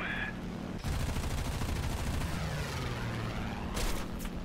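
Continuous rattling light machine gun fire striking a slow, heavy plane in an aerial combat video game, a loud unbroken stream of hits over engine drone.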